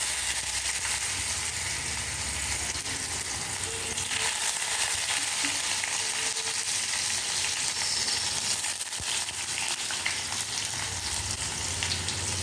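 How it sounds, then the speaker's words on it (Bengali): Chopped ginger and green chilli sizzle in hot oil with cumin seeds in a pan, a continuous loud crackling hiss with occasional stirring scrapes, steady throughout without talk. "দেখো আদাটা ভাজা ভাজা হচ্ছে।"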